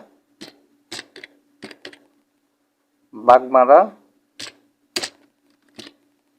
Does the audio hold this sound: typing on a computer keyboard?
yes